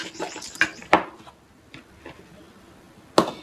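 Okra coated in masala and besan is mixed by hand in a bowl, giving a few sharp close clinks of utensil against the bowl over faint soft shuffling.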